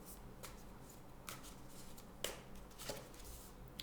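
Tarot cards are shuffled and drawn in a quiet room, giving a few soft separate riffles and snaps spaced apart, close and faint, with no one talking.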